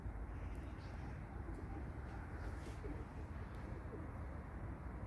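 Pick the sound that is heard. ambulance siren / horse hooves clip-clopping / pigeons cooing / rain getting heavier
pigeons cooing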